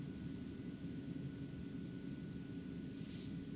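Steady low drone of a small plane's engine in flight over mountainous terrain, heard continuously from inside the cabin with a broad, even rumble and no talk.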